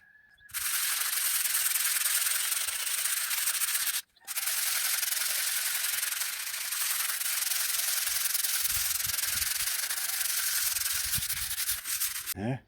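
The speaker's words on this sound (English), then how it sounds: "I'm just going to use some sandpaper" A stone window sill is rubbed down with sandpaper in a long, loud, steady abrasive rasp. It breaks off once briefly and then carries on almost without pause.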